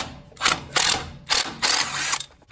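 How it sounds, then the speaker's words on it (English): Ratchet with a 10 mm socket backing out a bracket relocation bolt on a GM truck during an upper control arm install: bursts of rapid, close metallic clicking in four or five strokes, loud and alone. "use a 10 millimeter socket and just take off this bracket relocation"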